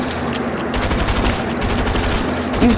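A gun fires in rapid, repeated bursts in Fortnite, loud and close, with short gaps between the volleys and no talking.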